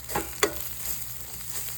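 Spices saute in hot oil over reduced heat for an Indian eggplant and potato curry, a short close hiss with a couple of quick scraping clicks, brief and without voices.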